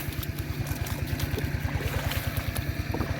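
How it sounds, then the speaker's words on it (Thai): Water pumped out of a fish pond pours and gushes steadily nearby, a continuous rushing flow with a low rhythmic pump throb underneath and no talking. "อู้นะครับน้ำที่สูบสระออกมานะครับ เยอะเยอะเยอะ"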